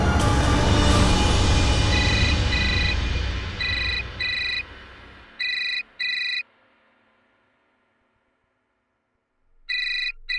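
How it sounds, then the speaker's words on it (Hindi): A telephone rings and goes unanswered in a Hindi crime drama: electronic ringtone beeps come in paired bursts with pauses between them, first over a loud, fading noisy rush, then on their own. "ये अपना फोन क्यों नहीं उठा रही है?"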